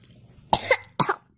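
Two sharp, close coughs in quick succession from someone who has just choked on a piece of candy, with a brief pause between them.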